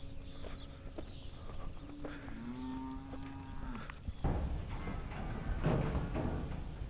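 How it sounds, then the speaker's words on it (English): Dairy cows in a meadow pasture give one long, drawn-out moo that rises and falls, followed by shuffling hoof steps and rustling nearby, with no talking. "We got a few we want to bring up to the barn,"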